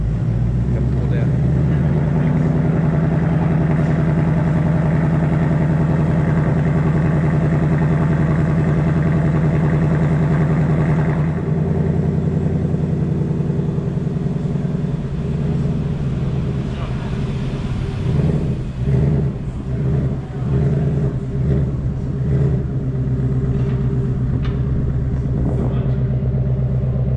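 A steady, deep idle from a 2024 Mustang GT fitted with a Steeda H-pipe exhaust, rumbling for a long stretch, then shifting into a rougher, pulsing burble near the end with faint voices mixed in.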